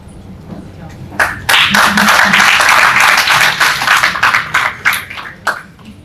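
Audience clapping at a journalism school event, where names are being called out. The applause swells to a dense, lively patter lasting several seconds, then thins out into scattered claps, with a voice heard faintly underneath.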